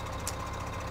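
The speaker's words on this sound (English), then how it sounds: "this is a tractor" A tractor engine in Farming Simulator 2015 runs at a steady, low, droning idle with a faint rhythmic knock, heard close and alone for a brief moment.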